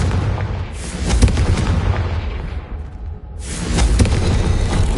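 A Confringo explosive spell blast from a video game, booming and rumbling loudly and continuously, with heavy low-end energy that swells, briefly dips and then surges back.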